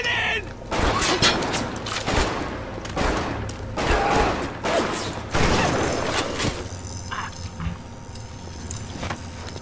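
Gunfire in the video game Bioshock crackles as dense, loud bursts of shots throughout, with game ambience and a voice speaking at times.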